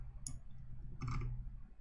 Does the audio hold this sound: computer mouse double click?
yes